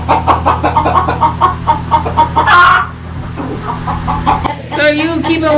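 Chickens cluck in quick repeated bursts on a farm, fairly close, with a brief louder squawk midway and a steady low hum underneath; a person talks over part of it.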